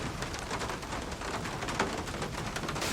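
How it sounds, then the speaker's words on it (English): Heavy rain pours steadily on a shoreline in Panama, a dense even hiss with no pauses, close and continuous throughout. "caught under heavy rain."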